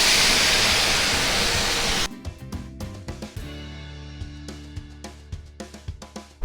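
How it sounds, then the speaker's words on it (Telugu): About half a cup of water poured into a pan of simmering ivy gourd masala curry, a loud steady rushing pour for two seconds, then sharp bubbling and sizzling pops as the curry cooks. "ఒక 1/2 కప్పు వాటర్ పోసుకోవాలి."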